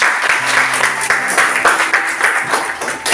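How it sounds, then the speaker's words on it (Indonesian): Schoolchildren in a classroom clap for a classmate after a lesson on Hindu teachings, a loud, close burst of hand-claps with a steady pulsing rhythm running the whole time. "Lagi sekali berikan tepuk tangan buat teman"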